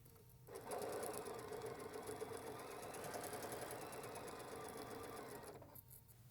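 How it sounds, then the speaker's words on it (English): A sewing machine stitches quilt block pieces for a Christmas quilt block in one continuous, rapid run, starting abruptly after a short pause and stopping just before the end, close and clear with no talking. "I'm going to go to the machine. I'm going to start here and sew all the way to the bottom."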